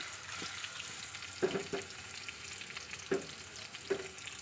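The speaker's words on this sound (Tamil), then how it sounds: "அந்த வாழைக்காய் கொட்டிக்கிட்டு கரண்டி போடாமல் லைட்டாக அந்த கடாயை ஸ்க்ரோட் பண்ணுங்கள்" Plantain slices frying in oil in a kadai that is swirled without a spoon, a soft continuous sizzle with a few light knocks and scrapes of the pan.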